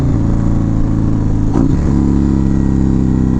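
Indian 116 cubic inch motorcycle engine revving hard and close, with a brief dip and blip around a downshift before pulling strongly again, loud and steady with no talk.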